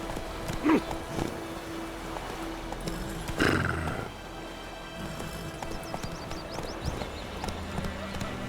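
Roach, a horse in the video game The Witcher 3, whinnies briefly near the start over clip-clopping hooves, with a second louder burst midway, beneath game music and a distant voice.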